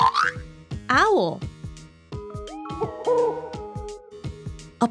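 A cartoon owl hoot from a children's nocturnal-animals sorting game, heard among playful game jingles and boing-like effects, with a spoken voice near the start.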